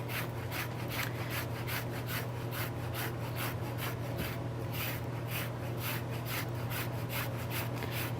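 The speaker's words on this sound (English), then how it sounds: "the last thing to do here is zest my lemon into my flour mixture" A Meyer lemon is grated over a zester into a flour mixture, a steady, close scraping rasp that repeats in even strokes for several seconds with no talk.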